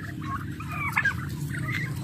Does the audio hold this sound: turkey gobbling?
yes